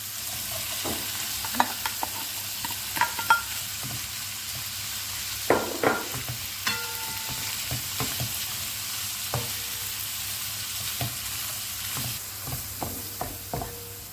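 Chopped onions sautéing in a pan for a Jerusalem artichoke batch-cooking dish, a steady sizzle broken by scattered scrapes and clinks of a spoon stirring, close and moderately loud, no voices.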